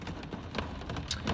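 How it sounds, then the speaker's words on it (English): Steady rain hisses as a dense, even wash of noise, with occasional sharper drop-like ticks and no voices over it. "Okay, I'm happy you guys like the rain."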